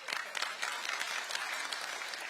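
Crowd at a government policy briefing in Iksan applauding, a steady wash of clapping with no breaks, fairly close and even in loudness.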